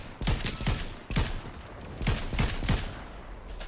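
Gunfire in a Fortnite match: several sharp clusters of rapid shots cracking close by, separated by brief pauses, loud and alone.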